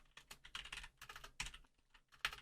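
Quick, uneven bursts of keystrokes on a computer keyboard while entering code, close and fairly quiet, with a few louder key presses near the end and no voices.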